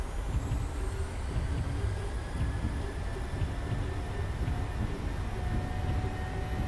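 Boeing 737 engines in the PMDG flight simulator roar steadily at takeoff thrust, a dense rumbling drone with a faint high whine, constant and loud with no talk.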